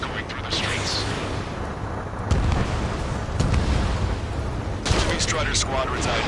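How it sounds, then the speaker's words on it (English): A PS4 video game battle fills the scene with dense gunfire and the roar of jets: a loud, continuous rumble broken by sharp, booming bursts, with no clear speech. "Gunfire and the roar of jets echoing through the streets."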